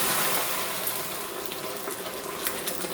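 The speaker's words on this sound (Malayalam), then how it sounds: "ഞാനിപ്പോൾ അരക്കപ്പ് വെള്ളം ഇതിലേക്ക് ചേർക്കുന്നതാണ്." Steady loud hissing and bubbling as half a cup of water hits melted caramelized sugar in a hot pan, a continuous sizzle with no talking.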